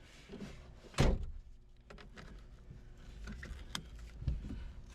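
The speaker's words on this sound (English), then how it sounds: "in the car, close the door" A single solid thunk of a 1990 Volkswagen MK2 Jetta GLI car door closing near the start, followed by quiet rustling and a few faint knocks inside the car.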